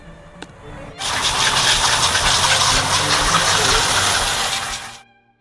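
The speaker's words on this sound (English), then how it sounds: "Set it aside and hose it off" Water from a hose gushes steadily over a pool filter cartridge for about four seconds, a loud broadband spray that starts abruptly and cuts off cleanly, with no talk.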